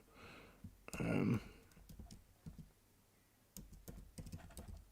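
Quiet, irregular clicks of typing on a computer keyboard, heard close and faint, with a louder rustle or breath early on and short pauses between bursts of keystrokes.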